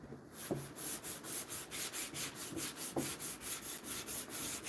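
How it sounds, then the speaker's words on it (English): Sandpaper rubbing back and forth along the grain of a wooden cabinet door under light pressure, a steady rhythmic scratchy swish repeating about every quarter second, close and alone. "as you can tell by the sound of the sandpaper going across the wood here"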